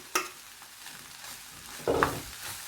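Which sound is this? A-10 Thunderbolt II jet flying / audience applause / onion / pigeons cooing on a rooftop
onion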